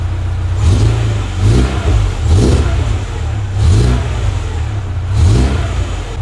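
Car engine fitted with an aftermarket performance exhaust revs repeatedly, five loud surging pulses about a second apart over a steady low rumble, close to the microphone with no talking.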